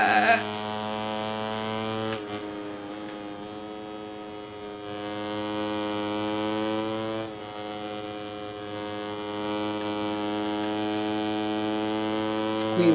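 A steady, droning Moto3 motorcycle engine tone in the video game MotoGP 19 at Mugello, with strong harmonic layers, holds for the whole stretch, dipping briefly in pitch a couple of times like the bike easing off.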